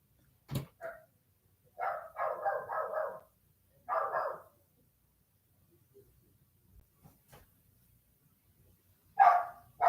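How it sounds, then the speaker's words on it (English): A dog barks in short bursts: a single yap, then a quick run of several barks, another pair, and a final loud bark after a quiet stretch. "Why are you barking at me, mascot?"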